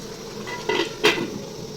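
Two quick metallic clanks as a lid is set onto a cooking pot of egg biryani, close and sharp over a faint kitchen background.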